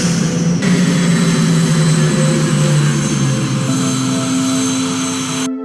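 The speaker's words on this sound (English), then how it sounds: "The engines have cut out." Spaceship engines in the sci-fi game Technobabylon drone in a loud, steady rumble that abruptly cuts out at the end, leaving silence.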